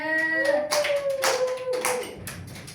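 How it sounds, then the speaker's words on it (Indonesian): Brief burst of classroom clapping for a student during a micro-teaching physics lesson on waves, scattered hand claps under and between a voice. "Beri tepuk tangan untuk Mbak Wanda."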